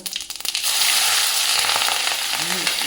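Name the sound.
cumin and onion frying in oil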